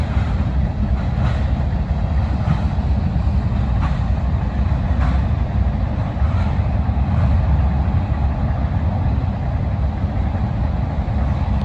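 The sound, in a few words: CSX mixed freight train passing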